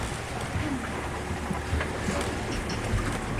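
A sailboat under way off Vieques, with steady wind rush and water washing against the hull, a broad constant noise heard close with no one talking.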